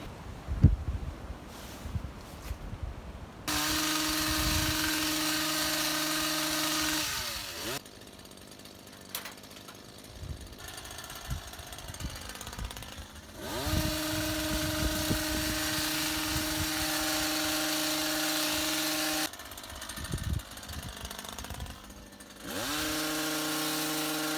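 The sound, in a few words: Stihl HS56C hedge trimmer cutting Leylandii hedge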